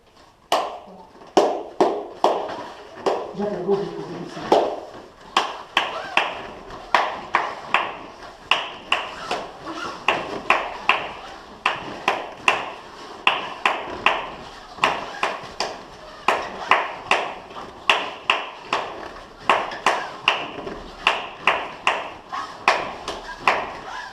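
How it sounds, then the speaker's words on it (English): A capoeira instructor claps sharp, evenly spaced beats to count the ginga at a footwork workshop, a long steady rhythm of single claps with brief voices early on. "I'll clap."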